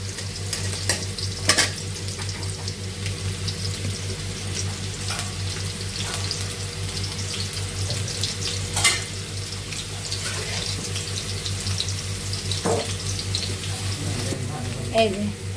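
Potatoes frying in a home-kitchen pan with a low steady sizzle and a few scattered clinks and scrapes, the hiss continuing evenly throughout with no voices.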